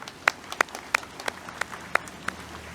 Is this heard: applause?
yes